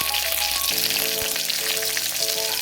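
Small shallots and garlic hit hot oil already crackling with cumin and mustard seeds in a pan for millet sambar, giving a loud, steady close-up sizzle with faint tonal sounds behind it.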